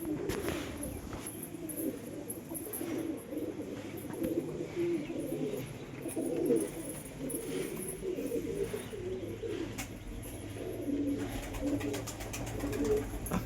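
Pigeons inside a pigeon loft coo in low, repeated throaty calls, several birds overlapping at moderate distance over a faint background hum, with occasional light chirps and rustles.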